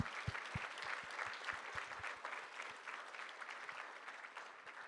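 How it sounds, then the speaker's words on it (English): An audience at a startup demo day applauds the pitching founders, sustained clapping from a moderate crowd with a few sharp individual claps standing out at the start. "Can we get a round of applause for everyone who pitched today?"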